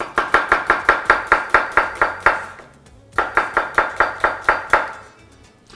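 A chef's knife julienning an onion on a cutting board, two fast, even runs of about nine crisp chops each separated by a short pause, loud and close with no talking.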